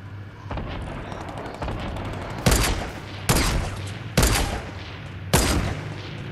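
Four loud, sharp sniper rifle gunshots crack out at roughly even intervals in the Fortnite video game, each with a short echoing tail above a steady low in-game hum.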